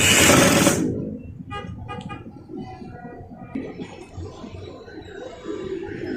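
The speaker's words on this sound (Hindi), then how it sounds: "इसी तरीके से हम एक पैर के मार्जिन से इस पे दोबारा सिलाई शुरू करेंगे" A sewing machine stitches a second seam one foot's margin in from the edge of a gathered frock sleeve with elastic, its whirring run loud at first, then stopping and giving way to softer handling noises.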